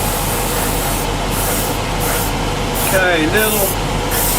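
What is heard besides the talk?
airbrush spraying paint on an Airfix 1/48 Sea Vixen model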